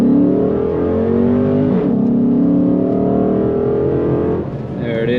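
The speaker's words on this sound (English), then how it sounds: "I'm gonna do a little just 0 to 60 pull, just a little baby one." A Dodge Magnum SRT8 with a 6.1 Hemi V8 pulls from 0 to 60 on a hot day, its engine droning loud and close as the pitch rises through the gears, with a short dip at a shift.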